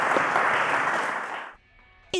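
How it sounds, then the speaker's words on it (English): A studio audience on a televised quiz show applauds the contestants with a dense, fairly loud burst of clapping that stops abruptly after about a second and a half. "Ladies and gentlemen, a round of applause to Nyemike,"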